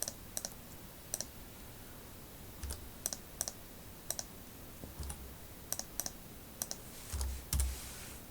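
Scattered clicks of computer keys, pressed in small clusters with pauses between, close and quiet against a faint background hiss.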